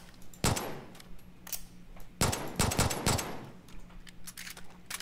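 Gunfire in the video game Far Cry 5, several short bursts of rapid automatic shots in irregular clusters, fairly close and sharp, with brief gaps between volleys and no talk.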